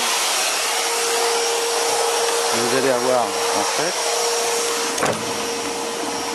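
A steady, loud spa air-bubble blower drone runs throughout, pumping air with a whirring hum, while a voice speaks briefly over it midway.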